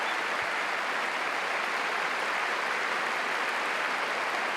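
Crowd applause at Wimbledon after Angelique Kerber wins in straight sets, a dense continuous roar of clapping held at steady volume throughout, with no voices standing out.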